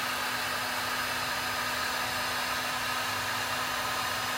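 A heat gun blowing steadily on painted furniture to strip paint, a constant airy whoosh with a faint motor hum, continuous and unchanging throughout.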